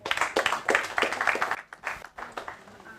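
An audience at a start-up accelerator pitch event claps for a presenter, a dense burst of hand claps that thins into scattered claps and fades within a few seconds.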